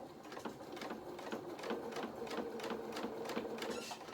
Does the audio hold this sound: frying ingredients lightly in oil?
no